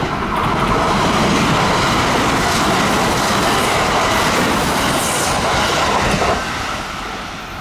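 A Kintetsu express train roars loudly through a station platform without stopping between Sanbonmatsu and Murouguchi-Ono, wheels rumbling and clattering continuously before the noise begins to fade at the end.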